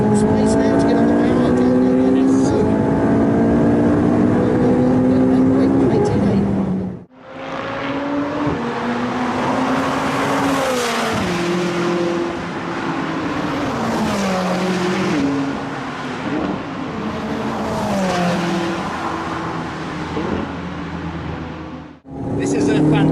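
A McLaren 675LT on a race track revs hard through its gears, with rising engine pitch, a brief lift and then more full-throttle pulls, loud and close from inside the car.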